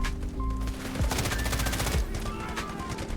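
Automatic K416 rifle fire in the shooter game Delta Force, a steady run of rapid sharp shots lasting the whole stretch, close and loud under game sound effects.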